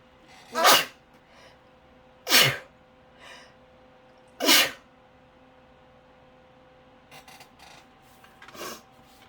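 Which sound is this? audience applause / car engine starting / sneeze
sneeze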